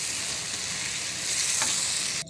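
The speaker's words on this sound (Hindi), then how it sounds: "साथ ही मैंने दोबारा इसको भूनना है मसालों को" Ground cumin and other spices roast in a hot pan for a chicken kari, making a continuous close sizzle and stir with a brief scrape near the end.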